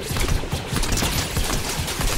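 Rapid E11 blaster fire in the Fortnite video game, a dense, continuous fusillade of loud, near shots that keeps up without a break.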